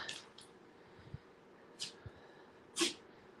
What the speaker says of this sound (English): They they are sneezing up a storm.